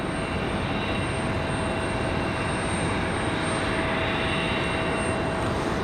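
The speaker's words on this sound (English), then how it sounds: "Republic Airways 4742 off to Pittsburgh, Pennsylvania." A Republic Airways jet departs Raleigh-Durham airport, heard as a constant, dense engine rumble and hiss at an even level from start to end, with a faint thin whine above it.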